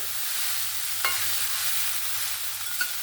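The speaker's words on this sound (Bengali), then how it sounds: "চাল কুমড়োটা দিয়ে আর আলু দিয়ে ভালো করে নাড়াচাড়া করে মিক্স করে নিয়েছি।" Chunks of ash gourd and potato are stirred in a hot pan, a soft steady sizzle of frying with a couple of brief scraping strokes of the spoon, close and alone without talk.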